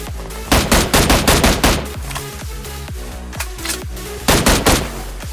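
Gunfire in the mobile battle royale game PUBG Mobile: loud bursts of rapid automatic shots in two clusters, a quieter stretch of scattered single shots between them, no talking.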